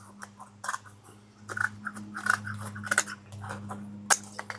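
Rike tactical shears cutting through a small piece of cardboard outdoors: a series of short crunching snips and scrapes in uneven rhythm, close, with a low steady hum underneath.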